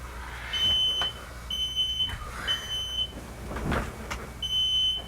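Smoke alarms shrill in repeated high-pitched bursts in a smoky home during a fire drill, several long beeping pulses sounding over a low rumbling background.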